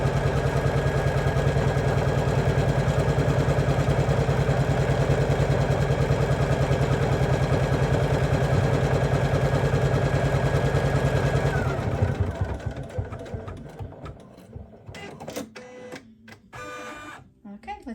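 An embroidery machine stitches a bucket fishing hat with a loud, fast, steady mechanical rattle and hum. After about twelve seconds it slows and stops, leaving clicks and handling sounds, and a person talks near the end.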